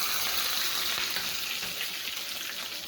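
Green chillies, curry leaves and mustard seeds are tempered in hot oil for a sooji besan dhokla. The oil gives a continuous, even hiss that stays steady and close, with no speech.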